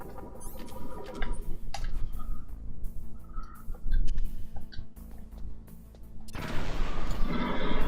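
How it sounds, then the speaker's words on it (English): Metal Gear Solid gameplay with a C4 charge going off: sharp bursts and crackling impacts scattered through the passage, then a sustained loud blast and rumble toward the end, with no speech. "I guess I shouldn't learn the distance of the C4 explosion."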